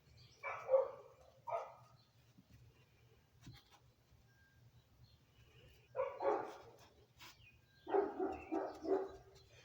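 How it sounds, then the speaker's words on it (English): A big neighbouring dog barks outdoors near a workshop. Short bursts of deep barks come in clusters, a pair early on, then a long pause with faint sounds, then a rapid string of several barks near the end, moderately distant. "Oh, that's the neighbor's dog. That dog's a pretty big dog."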